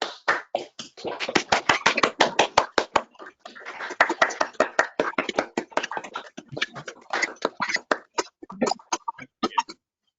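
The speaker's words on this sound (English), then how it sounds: "we give Ian a bit of a round of applause for his talk" Scattered hand claps from a few attendees of an online talk on UK tram-train schemes, sparse and uneven, with individual claps clearly separated and close to the microphones, thinning out toward the end.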